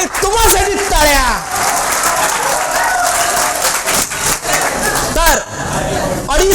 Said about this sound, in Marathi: यासाठी तुम्हासाठी टाळ्या.